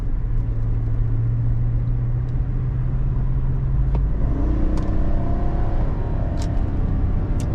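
A 2025 GMC Sierra 1500 SLT truck's engine drones from inside the cab while driving, a steady low hum that shifts upward in pitch midway as it pulls harder, with faint clicks and road noise.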